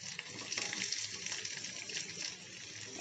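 Chopped onion frying in a pan, a soft steady sizzle with faint crackles and occasional stirring scrapes, close and even from start to finish.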